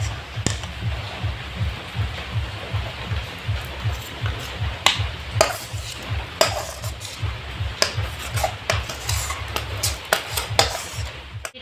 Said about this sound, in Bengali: সুজিটা থালায় নামিয়ে নিয়েছি।